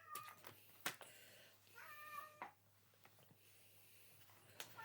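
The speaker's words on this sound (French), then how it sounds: "Je suis désolée pour le bruit du chat." A cat meows several times, drawn-out and plaintive, between a few sharp clicks in an otherwise quiet room.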